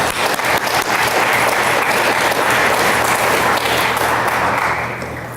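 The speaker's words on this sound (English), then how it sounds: "Will you give that team a round of applause?" A school board audience gives sustained, dense applause for a high school volleyball team at an honors and recognitions ceremony. The applause is loud and close, holding steady before tapering slightly at the end.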